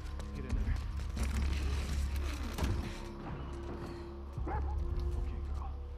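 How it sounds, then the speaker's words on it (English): Dogs bark and yip repeatedly in The Last of Us Part II, in short irregular bursts close by over a low rumbling game ambience. "Oh my god, they got dogs."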